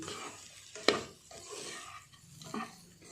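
A spoon stirs boiled potato pieces through an aloo and green peas curry in a pan, giving soft scraping and a couple of sharper clinks against the metal, faint and intermittent with no talk.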